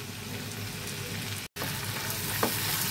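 Fish curry with chopped coriander stirred in a pan, a steady frying sizzle with soft stirring scrapes, briefly cut silent midway before resuming.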